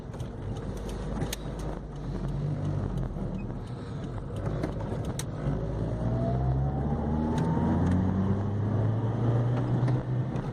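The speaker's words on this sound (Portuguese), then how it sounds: "agora eu vou dar umas aceleradas no carro para ver se limpa os bicos mesmo" A car engine revs repeatedly while kerosene is run through its fuel injectors to clean them, rising and falling in pitch over a steady close rumble, with no talking.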